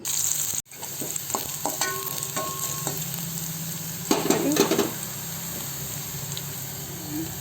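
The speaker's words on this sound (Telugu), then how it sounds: "ఇప్పుడు దీన్ని మళ్ళీ కొంచెం తాలింపు చేయాలన్నమాట." Tempering spices sizzle in hot oil for a gongura curry, a steady close frying hiss with scattered crackles and a louder burst of spattering about midway.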